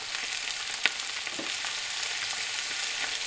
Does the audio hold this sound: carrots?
yes